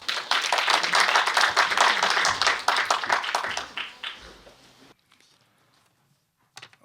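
Audience at a general meeting of a North Korean provinces youth federation claps loudly and steadily for several seconds, then the applause thins out and fades into near silence.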